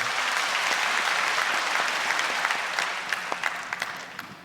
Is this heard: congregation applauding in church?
yes